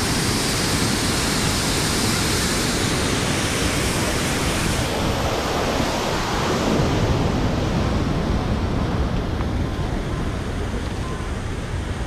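The Passaic River pours over a waterfall in northern New Jersey, a loud, unbroken roar of rushing water that stays steady throughout.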